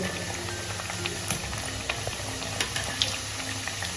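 Sabudana vada deep-frying in oil over a medium flame makes a steady, close bubbling sizzle with faint pops scattered throughout.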